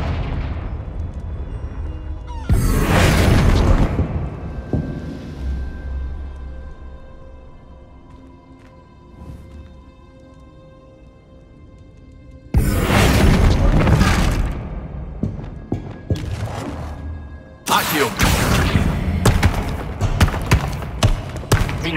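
Loud Confringo spell explosions in Hogwarts Legacy, heavy booming blasts at about 2.5, 12.5 and 17.8 seconds, each trailing into rumbling debris and crackle, with quieter ambience between.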